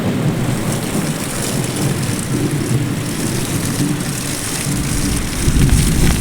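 Heavy monsoon downpour in Gujarat pounding steadily on surfaces, with deep thunder rumbling underneath throughout and swelling louder near the end, no voices.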